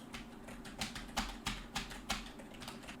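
Keys tapped on a computer keyboard, picked up by a Fifine microphone, a run of about eight distinct clicks spaced irregularly over a low steady hum, fairly quiet and with no voices.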